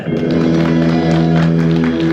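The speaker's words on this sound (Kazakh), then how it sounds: "Қазір көреміз, кімге шапалақ қаттырылады, сол ашады." Audience at a Kazakh betashar wedding game claps and cheers in a dense, steady wash of applause alongside loud music and crowd noise.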